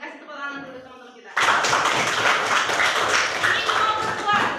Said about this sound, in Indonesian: kasih tepuk tangan dulu teman-teman kita